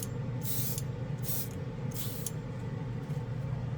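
An airbrush sprays Alclad chrome onto Lexan plastic in three short hissing bursts over a low, steady background hum.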